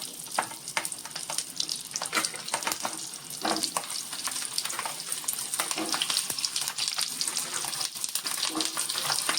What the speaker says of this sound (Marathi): मी तव्यावरती आता तेल घातलंय दोन चमचे आणि आता ह्या मिरच्या त्यात लावायच्या